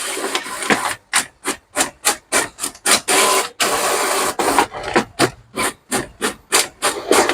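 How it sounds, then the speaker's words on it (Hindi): A letter printer printing photos works loud and close, its print head sweeping back and forth in a rapid run of rhythmic rasping passes separated by short pauses. "ये लेटर प्रिंटर है। इसमें फोटो फोटो प्रिंट।"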